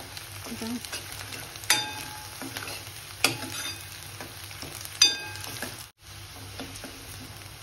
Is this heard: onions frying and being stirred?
yes